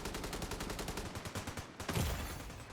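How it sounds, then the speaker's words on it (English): Rapid automatic enemy gunfire in The Division 2, a fast, even string of close, loud shots that pauses briefly and then resumes with a heavier burst. "As soon as he stops shooting, we'll get moving."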